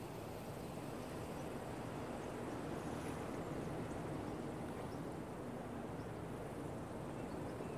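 Water on the Anubis map in CS2 gives a steady, faint broadband wash like gently moving water, continuous and even with no clear breaks.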